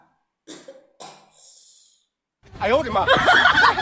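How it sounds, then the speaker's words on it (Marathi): A couple of short coughs from a woman complaining of a cold, with a brief throaty vocal sound between them, then close talking takes over. "खोकला आहे बाई"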